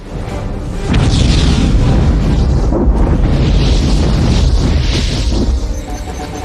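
Missile explosions in a film air battle: a heavy booming blast erupts after a short lead-in, then a sustained roaring, crackling wall of detonations and rumble that stays loud before easing slightly at the end.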